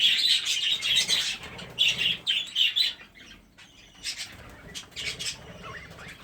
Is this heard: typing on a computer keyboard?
no